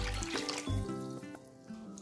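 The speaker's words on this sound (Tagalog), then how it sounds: "Sunod ay tubig." Water pours into a bowl of pizza crust ingredients (sugar, salt, vanilla, oil), a steady, close, faint trickling stream lasting about two seconds without talk.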